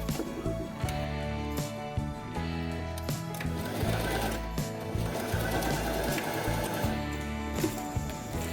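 A sewing machine stitches a seam across fusible interfacing on fabric for a quiet book's magnetic closure, running in a steady rapid mechanical whir close up with brief pauses between bursts and no talking.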